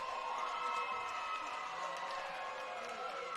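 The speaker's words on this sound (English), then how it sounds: "Tri-Central crowd not happy with the call" Unhappy crowd noise at a varsity boys high school basketball game in a gym, a steady broad murmur of many voices reacting to a referee's call, held at a fairly even level throughout.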